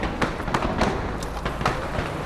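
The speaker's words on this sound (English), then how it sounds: "there's a series of shots ringing out now, just outside the shopping centre." A rapid series of sharp gunshot cracks and pops rings out against a noisy outdoor background outside a shopping centre during a siege in Kenya, several bursts spread evenly over a couple of seconds.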